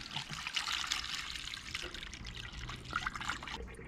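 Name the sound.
hard water pouring into a 1965 Ranchero radiator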